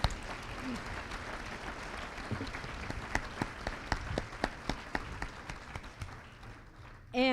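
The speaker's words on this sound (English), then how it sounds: "let's have a round of applause for those folks" Audience applause at a clean energy event in Marin County, a moderate wash of clapping with some louder individual claps standing out, and a voice cutting in at the very end.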